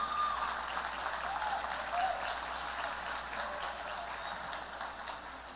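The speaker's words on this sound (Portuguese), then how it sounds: "Vamos aplaudir essa mãe aí." A church congregation applauds a mother in a steady, even wash of clapping that sounds somewhat distant and soft, fading gently over several seconds.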